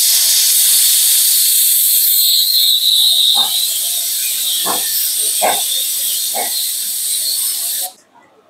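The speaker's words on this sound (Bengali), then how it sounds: "বাতাস ছেড়ে দিলে ওই দিক দিয়ে লিকুইড গ্যাসটা ঢুকে যাবে।" Liquid cooking gas from a household cylinder hisses into a 4.5-litre motorcycle fuel tank, a loud steady high hiss with a few short gurgling bursts, cutting off abruptly near the end.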